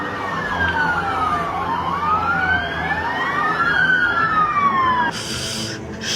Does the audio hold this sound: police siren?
yes